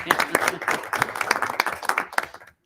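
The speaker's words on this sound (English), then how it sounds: "maybe that is a round of applause. You'll get a clap" A brief round of applause from a small group at a school board meeting right after a motion passes: scattered, uneven clapping from a few hands that thins and stops abruptly.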